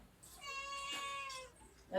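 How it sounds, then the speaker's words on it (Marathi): A domestic cat meows once in a drawn-out, fairly faint call indoors during a home gathering, with a brief louder noise at the end and no talk over it. "मांजर मांजर"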